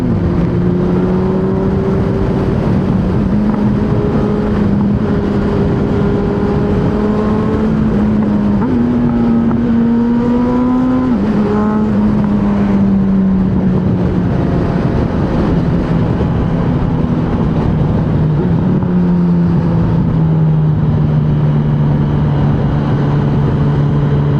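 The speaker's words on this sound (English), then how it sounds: "I love this bike, man. This bike is so much fun." A Honda motorbike ridden on a cold morning gives a loud, constant engine drone that shifts pitch as the throttle changes, heavily mixed with rushing wind noise on the microphone.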